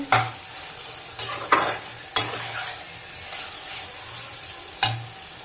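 Cumin powder and spices sizzling and being stirred in a pan for Bengali dhoka curry, a steady fry hiss broken by several sharp scraping strokes of a spoon.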